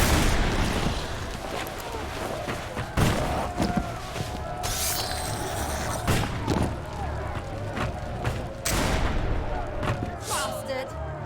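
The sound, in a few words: explosion in the video game Risen 3: Titan Lords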